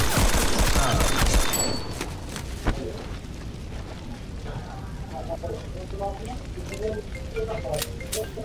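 Rapid gunfire from a fight scene in the film Animal, a dense burst of shots and booms loud at the start, then dropping to a lower rumble with scattered impacts.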